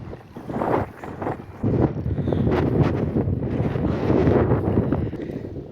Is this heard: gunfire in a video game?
no